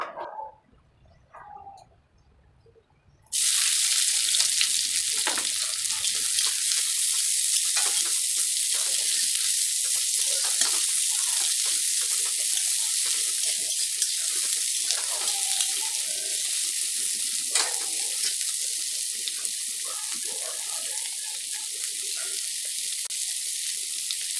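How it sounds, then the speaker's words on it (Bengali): Potato, pointed gourd, carrot and onion fry in oil in a village kitchen, a loud, constant hiss of sizzling that starts abruptly after a few quiet seconds and holds steady to the end. "আলু পটল গাজর আর পেঁয়াজ দিয়ে ভাজা করলাম"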